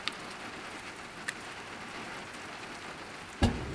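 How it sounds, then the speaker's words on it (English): Heavy rain drums steadily on the roof of a van on a cold morning, a dense continuous patter with a few sharper drops and a louder thump near the end. "the rain's coming down pretty hard"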